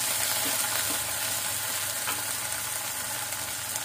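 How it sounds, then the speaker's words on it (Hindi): Potatoes and onions frying in a pan, a continuous dense sizzle with faint stirring scrapes, steady and close, no talking. "अब इसको आलू को गलने तक भूनेंगे"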